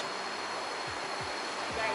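Steady, close rush of a stream flowing beside a national park lodge at Khao Yai, an even broadband wash of water with a few low soft thumps and no break.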